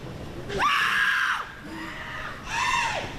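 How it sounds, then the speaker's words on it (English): Two high, strained shrieks of frustration from a female wrestler during a wrestling match, each sustained for about a second with a gap between them, loud and close. "You hear the shrieks of frustration."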